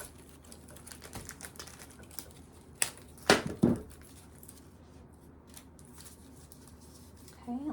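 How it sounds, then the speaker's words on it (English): Scissors snip decorative greenery into pieces for a winter table centerpiece, a few sharp close cuts in the middle amid light rustling and handling noises. "I'm just cutting this into pieces"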